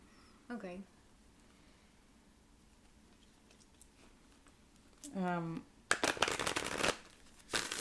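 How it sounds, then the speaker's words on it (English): Quiet riffling and flicking of cards, brief bursts separated by near silence, ending in louder rapid shuffling, with a voice heard briefly. "I try to be quiet too while I'm shuffling the cards"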